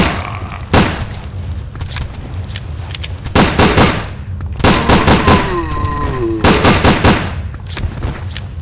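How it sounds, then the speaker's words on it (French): Rapid gunfire in the video game Resident Evil: Dead Aim: loud, close bursts of repeated shots in several clusters, with booming impacts between them over a steady game background. "on va tirer comme un bourrin"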